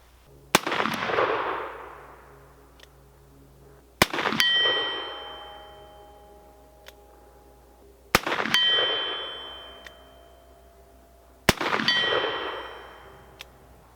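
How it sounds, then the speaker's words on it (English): A Pietta 1858 stainless steel black powder revolver fires four shots a few seconds apart at a steel target from 50 yards, each sharp report followed by a long ringing clang of the struck steel decaying away. "I'm bound and determined to ring that steel target."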